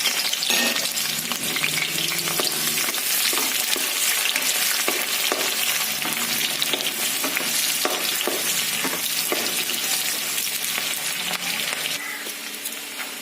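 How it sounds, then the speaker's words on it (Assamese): Onions frying in hot oil in a wok (kerahi), a steady dense sizzle throughout with faint stirring clicks, close and loud, easing slightly at the end. "তাৰপিছত পিঁয়াজখিনি ভাজি লৈছোঁ।"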